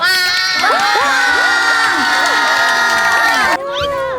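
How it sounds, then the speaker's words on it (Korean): A crowd of high school girls at a retreat center shrieks and cheers loudly and continuously as the retreat director enters, with high excited voices overlapping before the noise drops off abruptly near the end. "큰 박수로 맞이해 주시기 바랍니다."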